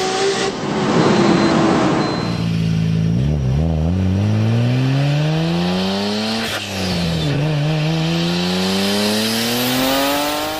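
Turbocharged car engine revving hard with a powerful intake roar, pitch sweeping up and down across several throttle blips, loud and close, with some tyre scrape and no talk.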